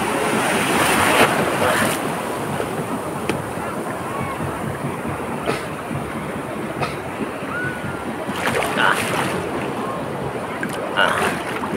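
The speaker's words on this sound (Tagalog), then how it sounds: "suungin natin yung mataas na alon dyan mga kabams" High ocean waves break and churn around a small boat out at sea, a steady loud roar of surf with wind buffeting the microphone and a few swells rising near the end.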